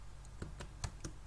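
Keys on a computer keyboard are tapped while entering a formula, four or five light separate clicks close by over a soft room hiss.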